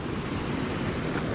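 Blue River water flowing strongly during a fly-fishing outing, a steady, full rushing wash with no breaks, close and even throughout, with a touch of wind noise.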